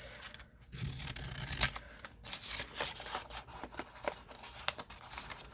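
Scissors cut fabric or paper scraps in a series of close, quiet snips and crisp cuts, spaced irregularly, with some rustling and crinkling between them.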